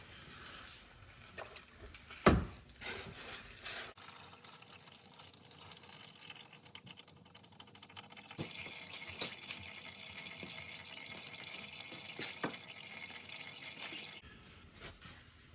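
Engine oil draining from the drain hole of a Honda into a pan, a faint liquid trickle and splatter that thins toward scattered drips, quiet and close.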